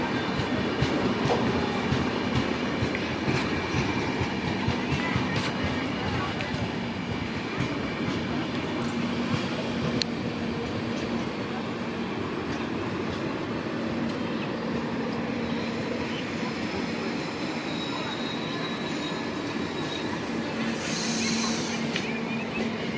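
A passenger train of about 21 to 22 coaches rumbling steadily past nearby at Lushala station, continuous clatter of wheels on rails with a faint high squeal near the end.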